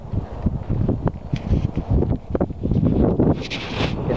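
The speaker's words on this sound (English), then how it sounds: "It's probably windy and you can't hear a thing I'm saying" Gusty wind buffets the microphone in loud, uneven bursts, with rustling and a brief hiss toward the end.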